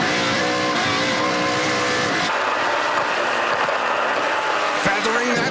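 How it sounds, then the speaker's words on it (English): NASCAR Pinty's Series race cars feather the throttle through turns at the Total Quartz 200, a loud, continuous engine roar with shifting tones and a sharp burst near the end, under crowd and track noise. "Feathering that throttle through turn 4, down into turn 5."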